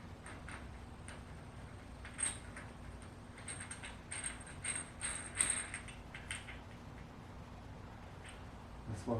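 A ratchet tightens the axle nut on a Chevy Tahoe during a home CV axle and wheel bearing install, giving a run of quiet metallic clicks and ticks in short bursts, close by with no talking.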